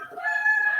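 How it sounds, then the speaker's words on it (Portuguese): A rooster crows once in a short, clear, fairly close call, heard on its own without talk over it. "Vocês estão conseguindo ouvir o galo da minha mãe?"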